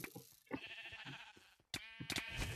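Sheep bleating in the Sheep Quest video game, several loud, close bleats in quick succession with a short gap before a final pair of bleats.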